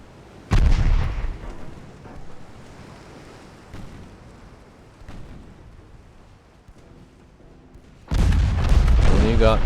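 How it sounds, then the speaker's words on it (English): Bow torpedo launch from a light cruiser in a naval battle game, a heavy deep boom with rushing noise, then rumbling sea and wind, and a second loud blast near the end. "Bow torpedo, go."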